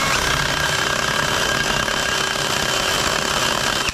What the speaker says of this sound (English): I don't have my setup right now to slow down the grinder with the aluminum bit, so it gets way too fast and hairy.